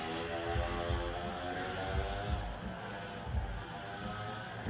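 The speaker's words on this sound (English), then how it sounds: "Some dude with a little mini bike is outside, so excuse that." A small mini bike engine runs outside with a steady, moderately faint droning hum and slight swells in pitch. No voices are heard.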